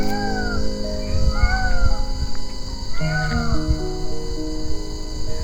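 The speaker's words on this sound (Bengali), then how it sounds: "মাঝে মাঝে ময়ূরের ডাক।" A peacock calls repeatedly from the forest in the Dooars at night, several rising, wailing cries at moderate distance over a continuous bed of chirping crickets.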